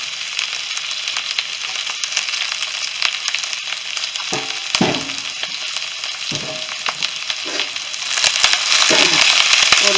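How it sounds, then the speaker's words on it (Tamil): Capsicum sautéing in a hot pan for a Chicken Manchurian dish, a steady close sizzle with a few stirring scrapes, growing louder near the end, no talk. "ஒரு 3 minutes சாட்டே பண்ணிடுங்க. கொஞ்ச நேரம் நீங்கள் வதக்கினா போதும்."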